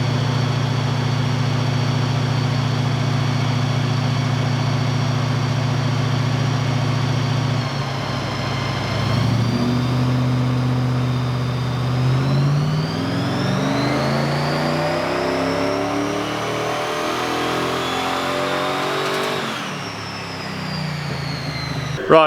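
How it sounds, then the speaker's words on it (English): Iron Lion engine running hard on a dyno with fresh fuel, a loud steady drone that rises and falls through revs in a long sustained pull, close and continuous with no clear separate pinging. "there's like an audible ping that you can hear"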